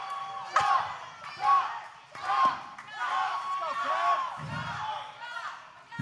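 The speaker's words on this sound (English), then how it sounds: "Listen to the response from this crowd chanting chop, chop, chop!" A wrestling arena crowd at an OVW Rise pro wrestling show chants and shouts in loud, rhythmic bursts, with layered voices swelling and falling over several seconds and a brief low thump near the end.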